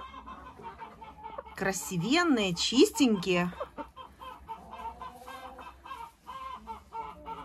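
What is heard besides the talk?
laying hens clucking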